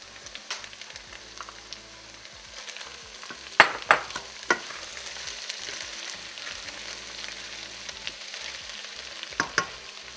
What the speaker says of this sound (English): I'm going to add the green beans.